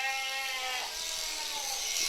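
A sheep bleats loudly and continuously for about two seconds at a shearing demonstration, a close, wavering, drawn-out cry with a faint buzz of electric shears underneath.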